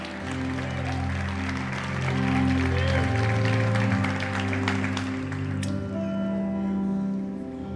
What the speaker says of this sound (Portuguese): Se você crê, dê um aplauso ao Senhor.